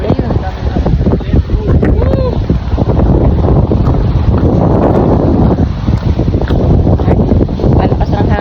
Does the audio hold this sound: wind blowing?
yes